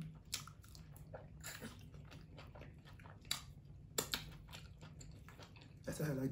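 Close-up chewing and biting of spicy fufu with okro, with soft wet mastication and a few sharper bites spread across the stretch, mixed with people talking.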